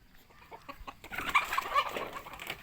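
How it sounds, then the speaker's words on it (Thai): Domestic chickens, laying hens and young birds kept at a rural home, cluck softly at first, then louder and busier, in a close flock with no talk. "ไก่ที่บ้านนะครับตัวไข่อยู่ก็มีตัวกำลังเป็นไก่อยู่ก็มี"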